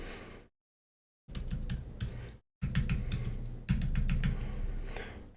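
Fingers tap rapidly on a computer keyboard in three bursts of quick, close clicking separated by brief silences, with no voices.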